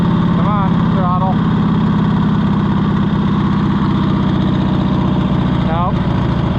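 A Cushman Truckster utility vehicle's engine idling, a loud, steady, chugging putter that runs continuously up close with a slightly uneven rhythm, while a voice speaks briefly over it.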